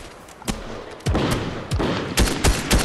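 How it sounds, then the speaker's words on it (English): Gunfire in a Fortnite trios match rings out as a quick series of loud, close single shots and short bursts, spaced a fraction of a second apart, with almost no talking. "I'm getting shot at."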